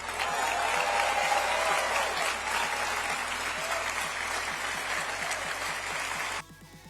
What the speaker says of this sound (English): The crowd erupted in thunderous applause.